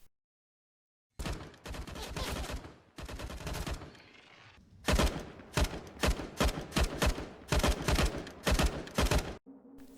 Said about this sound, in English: the weapon firing sound effects in the final street scene come from CSGO